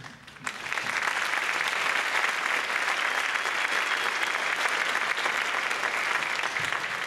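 A school concert audience gives students a loud round of applause, a sudden swell of dense clapping that holds steady and sustained after a brief quiet start.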